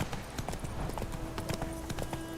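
Roach the horse trots in The Witcher 3, with a steady, close clip-clop of hooves throughout.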